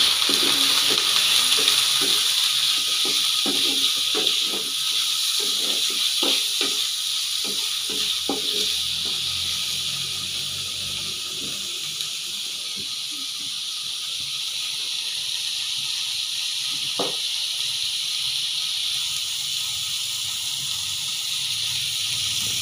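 Pork hits a hot pan and sizzles with a steady hiss that continues for the length of the clip, with a few clinks and scrapes of stirring near the start.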